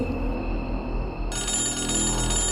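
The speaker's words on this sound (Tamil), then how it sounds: "நடு ராத்திரியில அவனுக்கு மறுபடியும் கால் வருது." A telephone rings at night in a tense horror-story scene, a steady electronic trill that holds for a couple of seconds over a low, dark background with no voices.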